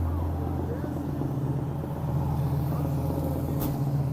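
A classic car with a manual 4-speed drives at a car cruise in Washington, Missouri, its engine a steady low rumble close by throughout, with a voice talking over it.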